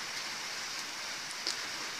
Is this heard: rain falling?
yes